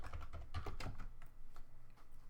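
Rapid clicking of a computer keyboard as a GDB debugger command is typed, a close, quick burst of keystrokes with no voice over it.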